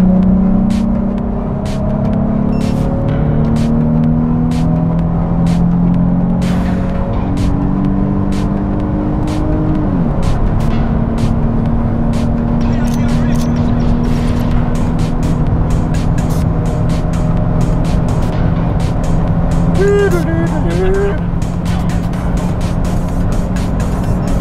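A Nissan 350Z with a five-speed automatic pulls hard from 100 to 200 km/h, its engine droning loud and steady from inside the cabin, rising in pitch, dipping through a gearshift and climbing again.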